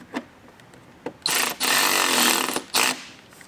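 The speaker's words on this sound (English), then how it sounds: "grab our 7mm socket and fully tighten that upper mount on the mount plate" A power tool drives a 7mm socket to tighten the upper mud flap mount on a mount plate of a 2022+ Ford F-150 Lightning, sounding in short close whirring bursts, one longer burst in the middle, with no talk.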